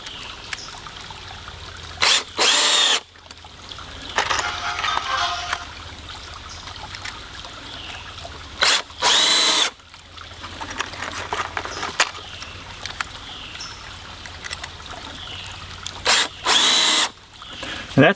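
Power screwdriver driving screws into a 22-inch wooden board while building a flume: three short whirring bursts spaced several seconds apart, over a quiet trickling background.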